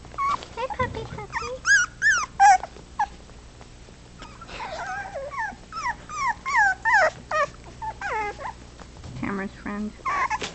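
Four-week-old puppies play together, giving high yips, whimpers and little growls in bursts across the clip while someone talks nearby.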